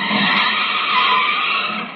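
A car skids hard to a stop in an old-time radio comedy sound effect, a dense, loud screech of tires lasting about two seconds and fading slightly at the end, with no voices over it.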